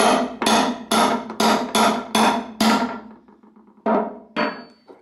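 A light hammer strikes a chisel on a car fuel filler door in a quick run of seven ringing blows, then a short pause and two more strikes.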